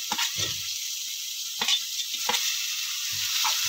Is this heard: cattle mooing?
no